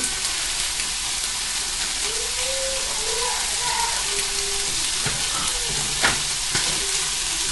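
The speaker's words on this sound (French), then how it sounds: "quand les lardons sont cuits, mettez les pissenlits" Lardons and dandelion greens fry in a pan with a loud, dense, continuous sizzle, and a few sharper scraping stirs near the end.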